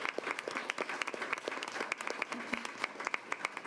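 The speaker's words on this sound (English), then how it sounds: "Let's give her a round of applause" Audience applause at a school board meeting honoring a mariachi band teacher, a steady wash of many hands clapping with scattered sharp claps standing out, moderately loud and continuous without speech.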